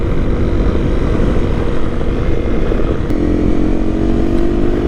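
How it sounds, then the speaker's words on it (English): A Honda CRF 250 Rally motorcycle rumbles loudly and continuously while being ridden, its engine a steady low drone mixed with wind roar, with no one talking. "Very smooth motorcycle."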